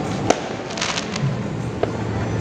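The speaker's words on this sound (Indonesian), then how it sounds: "yang nyalain kembang apinya udah ada sih di tempat-tempat sono, tapi udah mulai banyak" New Year's Eve fireworks crack in the distance, with two sharp bangs and some softer pops over a steady background rumble, and no talking.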